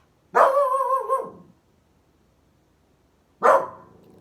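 A dog barks at night indoors, two close, loud barks: a drawn-out howling bark followed after a pause by a shorter one.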